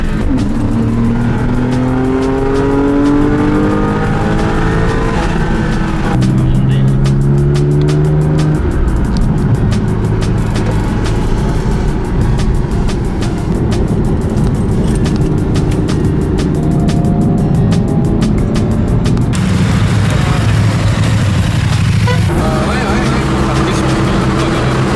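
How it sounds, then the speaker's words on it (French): A Porsche 911 997 Carrera S driven hard up Alpine mountain passes near Andermatt, its flat-six engine revving through rising gear sweeps and shifts, loud inside the cabin, with voices talking over it. "Nous avons changé le Renault Espace asthmatique pour la Porsche 911 997 Carrera S du diable"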